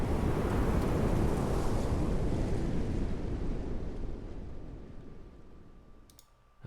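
A wind ambience effect from the video game Carto: a loud, steady, breathy rush of air that gradually thins and fades toward the end, closing with a faint click.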